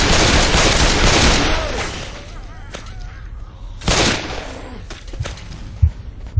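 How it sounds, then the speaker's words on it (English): Gunfire in the video game Left 4 GoldenEye, opening with a dense burst of rapid shots that fades into scattered single loud cracks, with voices partly under it. "Y'all got to stop shooting!"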